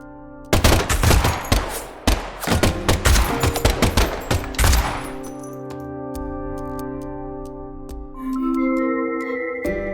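Rapid bursts of gunfire ring out in the Deadly Premonition 2 video game, loud and clustered over the first five seconds, then give way to a sustained musical tone.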